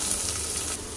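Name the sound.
onion added to hot oil with curry leaves, sizzling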